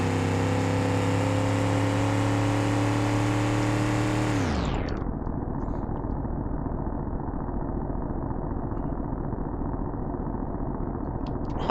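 A 1960s King Snake muscle car engine in BeamNG Drive holds a loud, steady high rev, then drops sharply in pitch into a constant rough roar that continues throughout, no talk.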